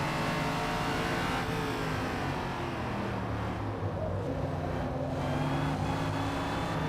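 A 600 horsepower car in Gran Turismo 7 roars under hard acceleration, a dense, loud, steady engine drone with layered harmonics holding throughout.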